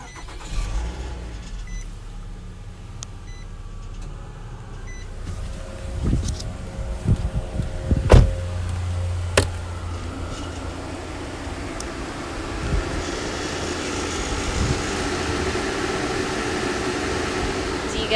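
A 2012 Nissan Altima 2.5S starts and then idles in park, with a clunk, a rising whir and a persistent odd mechanical drone heard close up, a voice briefly audible.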